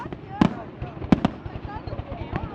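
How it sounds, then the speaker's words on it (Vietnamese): Fireworks explode at the 2015 Dalat flower festival, with three sharp booming bangs among crackling bursts and crowd chatter throughout. "Nổ nghe đã lỗ tai thiệt á."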